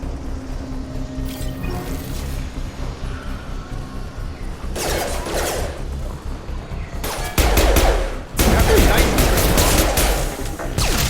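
Gunfire erupts in a Mass Effect 2 battle: scattered shots at first, then a dense, loud burst of rapid automatic fire over the game's rumbling background.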